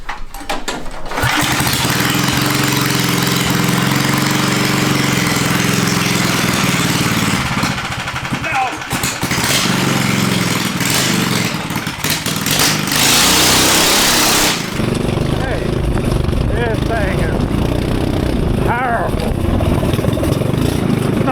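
A cheap 18HP engine bought on Temu runs on a go kart, roaring loudly and continuously with shifts in pitch and a brief surge near the middle, while people talk over it.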